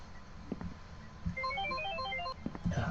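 A phone in the video game Phasmophobia rings with a faint electronic trill of rapid stepped tones, surrounded by quiet thumps and room noise.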